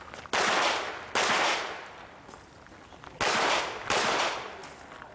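Pistol shots at an IDPA shooting match at an outdoor club range, four sharp loud reports in two closely spaced pairs, each followed by a short echoing decay, heard close with no talking.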